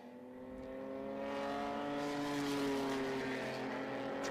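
Race cars roar around Wake County Speedway in the final race of the season opener, their engines forming a loud, sustained drone that swells and holds as the pack runs past, with no talk.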